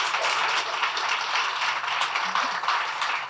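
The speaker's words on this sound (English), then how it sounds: "let's just start by giving them all a round of applause" Audience at a panel discussion gives sustained, moderately loud applause from start to finish, a dense wash of clapping with no voices.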